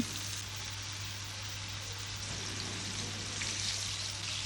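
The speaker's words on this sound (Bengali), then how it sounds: "তেল ঢেলে দিলাম, ডিমটা ভেজে নিব।" An egg fries in hot oil in a home kitchen pan, a constant bright hiss and crackle of sizzling that holds steady throughout without any talk.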